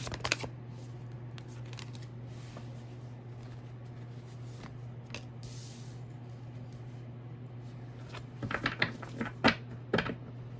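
Tarot cards being shuffled, as a quiet riffling rustle under a steady hum, ending in a cluster of sharper card flicks and slaps near the end.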